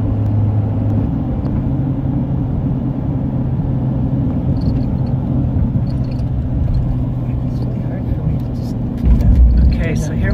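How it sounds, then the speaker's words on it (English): Traffic inside the Chesapeake Bay Bridge-Tunnel, heard from a vehicle towing a 40 ft fifth-wheel trailer, with big trucks coming the other way in a one-lane-each-way tunnel: a steady low road rumble and engine drone that swells briefly near the end. "And we have these big trucks coming right at us."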